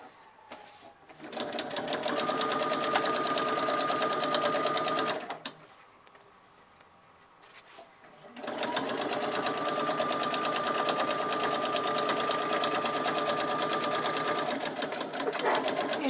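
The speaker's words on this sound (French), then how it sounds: "Et c'est parti pour la dernière couture." A sewing machine stitches the last seam of a garment, running close in a steady mechanical whirr for several seconds. It stops briefly, then resumes for another long, even run.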